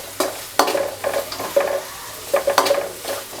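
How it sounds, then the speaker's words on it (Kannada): Green chillies stir-fried in a pan, with a spatula scraping and stirring in repeated bursts over a steady sizzle, close and fairly loud, no talking. "ಇವಾಗ ನಾವು ಇದು ಹಸಿ ಸ್ಮೆಲ್ ಹೋಗೋವರೆಗೂ ಚೆನ್ನಾಗಿ ಹುರಿಯೋಣ."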